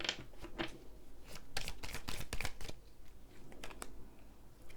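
Tarot cards being shuffled by hand, a rapid papery riffling and flicking in close, uneven bursts that pause briefly and resume, with no talking.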